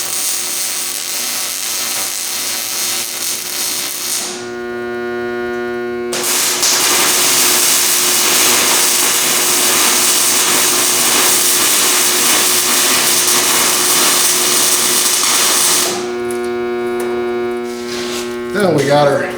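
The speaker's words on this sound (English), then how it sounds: "then I'll tack weld on the back side here, this angle" Steel angle being tack welded to a sheet metal panel for a 42U server rack enclosure, heard as a loud steady buzzing crackle that runs in long bursts broken by short pauses where a tonal hum shows through.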